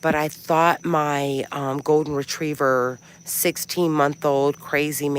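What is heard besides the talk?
No everyday noises stand out.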